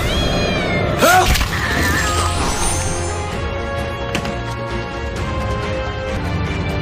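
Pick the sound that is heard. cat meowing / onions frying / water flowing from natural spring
cat meowing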